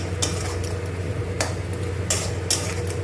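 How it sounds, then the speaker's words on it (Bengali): A metal spatula clinks and scrapes against a pan as fried katla fish is tossed into oily masala and mixed through, with a few sharp clanks over a steady low hum. "এবার এই যে মাছটা ভেজে রেখেছি এর মধ্যে দিয়ে দেবো। দিয়ে এটাকে এরকম করে মাখিয়ে নেবো।"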